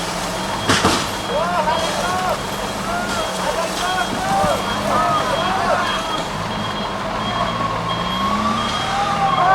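A Hino 320 Ti tractor truck carrying a CPO load is towed backwards by another Hino during a windy storm. A steady engine rumble and wind noise carry reversing beeps and mechanical whines at close range.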